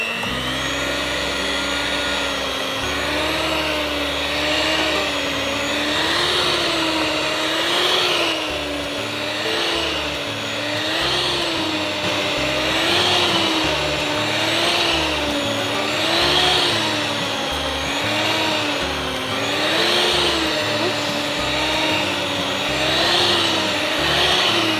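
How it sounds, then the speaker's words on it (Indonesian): An electric mixer kneads flour dough for a snack, its motor whirring steadily and loudly with a gentle wavering pitch as the dough turns, running alone without talk for the whole stretch. "Tercampur rata semuanya, baru kita mixer ya."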